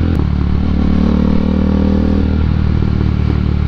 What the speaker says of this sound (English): it's grunty because of the exhaust tone